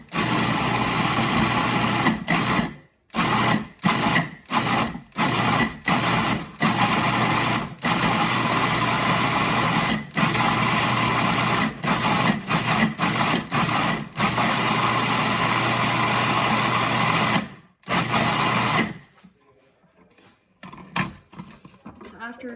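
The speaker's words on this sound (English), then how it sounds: "So this is all going into a food processor," A food processor pulses sofritas ingredients in a run of short and long bursts of high whirring motor noise, split by brief silent gaps, then stops, leaving quiet handling sounds.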